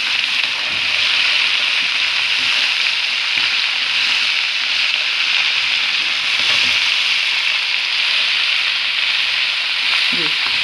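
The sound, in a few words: mixing bhindi with turmeric, salt, chilli and coriander in pan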